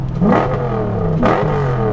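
A Mazda car engine revs sharply twice on light throttle, climbing to a high race-engine whine each time, loud and close with a steady idle rumble between bursts.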